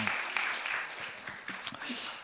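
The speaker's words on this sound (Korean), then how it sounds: "우리 한번 하나님께 또한 감사의 박수 한번 다시 올려드리도록 하겠습니다." A Korean church congregation applauding in thanks during a Thanksgiving Sunday service, with faint, brief clapping heard at a distance alongside voices.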